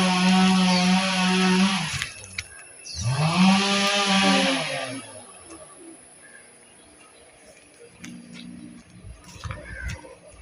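A chainsaw cutting a tree in a garden plot revs in two rising, buzzing bursts of a couple of seconds each, then idles faintly, while pigeons or doves coo and other birds chirp nearby.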